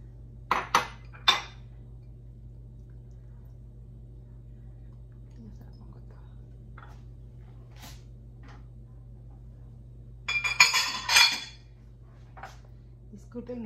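Mango fruit salad with grapes being stirred in a bowl, giving a few sharp clinks of a utensil against the dish early on and a busier burst of clattering later, over a low steady hum.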